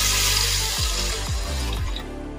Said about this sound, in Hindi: तो अब इसमें ये 1 कप दूध का डाल देंगे